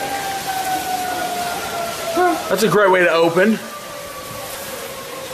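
A siren holds a steady wailing tone in the background throughout, while a person briefly speaks over a noisy, hissing backdrop.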